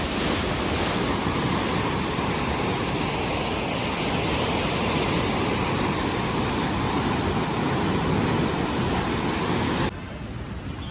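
Loud, continuous roar of water rushing through the Ropar canal headworks into the Sirhind canal, dense and unbroken, cutting off abruptly just before the end.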